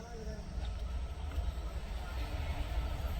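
Train travelling at speed, heard from on board as a steady low rumble with faint rattling and wind noise that holds constant throughout.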